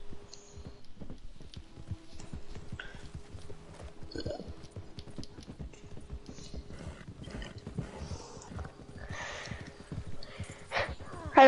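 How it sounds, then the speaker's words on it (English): A horse galloping in Red Dead Online, rapid rhythmic hoofbeats drumming steadily and fairly close, with occasional tack jingles and thuds, and a few brief voice sounds mixed in. "Get on your horsey horse and let's go get these bounties."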